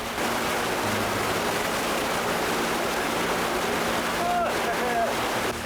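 A river runs steadily beside a mountain trail in Japan, a constant broadband rush of flowing water filling the whole stretch, close and even, with a brief faint chirp near the end.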